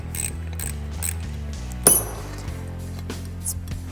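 Deep well socket and ratchet loosening the emulsion tube on a Farmall tractor carburetor, close metallic clicks and ratcheting with one sharper clink midway, no voices.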